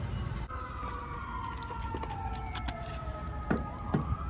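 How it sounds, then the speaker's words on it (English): A siren wails steadily in the distance, its tone sliding slowly downward over constant traffic and street noise, with a couple of sharper knocks near the end. "That's always a siren right here."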